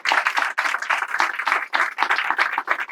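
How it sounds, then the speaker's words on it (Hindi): Rhythmic group clapping in quick, even beats at a church service, many hands striking together in unison, moderately loud and close. "हम सब प्रभु की महिमा की तालियां देंगे"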